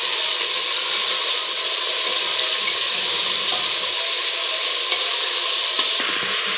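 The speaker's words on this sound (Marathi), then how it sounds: "छान इथं असं मिक्स करून घेऊया." Steady, close sizzling and stirring of grated carrot and beetroot cooking in a pan for pav bhaji, a continuous dense hiss with faint scraping throughout and no talk.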